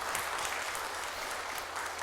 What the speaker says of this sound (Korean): 격려하면서 큰 박수로